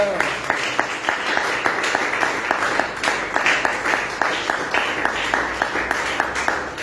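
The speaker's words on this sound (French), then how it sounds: "On acclame le Seigneur" A church congregation applauds steadily during a Friday prayer gathering, claps rhythmic and dense for several seconds in a reverberant hall, with voices faintly mixed in.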